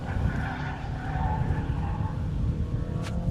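A rally car skids across gravel on the Oregon Trail Rally at Maryhill, a steady loud roar of engine and tires scrabbling over loose stones, sustained and fairly close.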